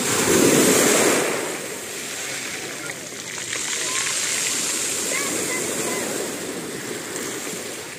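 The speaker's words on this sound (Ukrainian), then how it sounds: "Ай, море, волна." Sea waves wash and splash close by in a steady, rushing surf while a person briefly speaks over the water.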